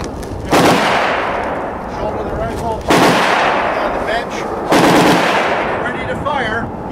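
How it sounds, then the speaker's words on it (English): A Browning Automatic Rifle (BAR) fires three loud, separate single shots a couple of seconds apart, each a sharp blast trailing into a long reverberant rumble, with faint voices underneath. "Every time you pull the trigger, it will fire one shot."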